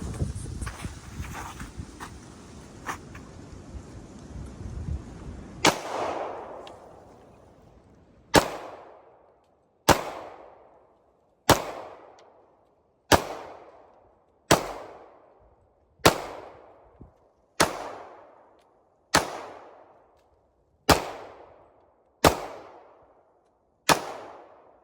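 Glock pistol firing heavy bullets, about a dozen sharp shots spaced roughly a second and a half apart, loud and echoing outdoors, after some earlier handling noise.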